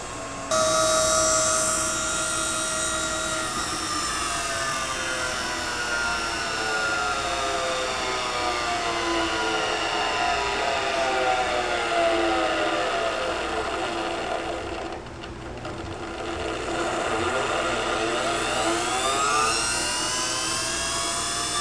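A honey extractor spins frames with a slight wobble, giving a steady, loud mechanical whine with tones that slowly drift in pitch and a brief dip partway through before it picks back up.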